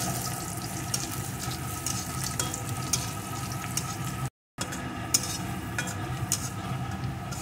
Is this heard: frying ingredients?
yes